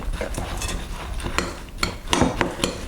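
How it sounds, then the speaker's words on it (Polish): A spoon scrapes and clinks irregularly against a bowl as dry coconut oatmeal cookie ingredients are stirred together, close and moderately loud, with sharper taps standing out from the softer scraping. "te składniki wszystkie fajnie mieszamy"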